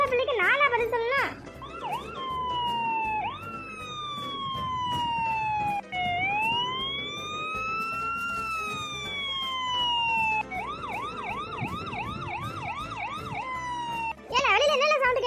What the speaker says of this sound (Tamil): இன்னைக்கு ஆம்புலன்ஸ் வந்திருக்குக்கா